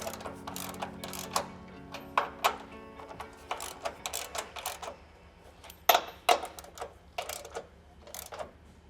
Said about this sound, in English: Now we'll just go ahead and tighten these down.